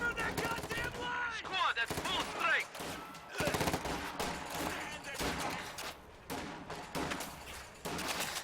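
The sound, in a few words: M1919 machine gun fire in Company of Heroes 2 (video game)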